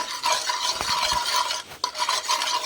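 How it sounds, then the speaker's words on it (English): Seasoning being stirred into melted butter in a pot for a lobster tail dish: a continuous close scraping and swishing of the spoon, with a couple of brief knocks partway through and no voices. "Then you want to make sure you stir those seasoning together so you can get equality with your seasoning and butter"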